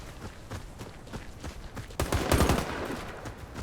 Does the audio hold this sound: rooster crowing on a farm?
no